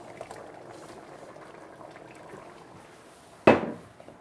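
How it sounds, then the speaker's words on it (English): Beef stew simmering in a pot gives a steady low bubbling throughout, then a sudden louder splash or clatter near the end as something drops in. "Our stew has been simmering for quite some time right now, about 45 minutes."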